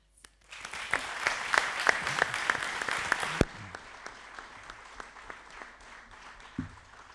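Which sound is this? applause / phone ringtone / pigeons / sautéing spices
applause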